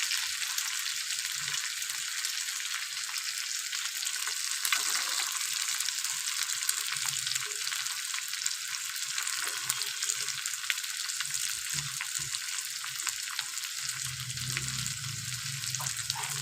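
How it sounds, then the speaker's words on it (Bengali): Green peas frying with curry spices in a pan, stirred as they cook; a steady, moderately loud sizzle runs throughout with occasional stirring scrapes and no voices. "কড়াইশুঁটি দিয়ে খুব ভালোভাবে নেড়ে নেব।"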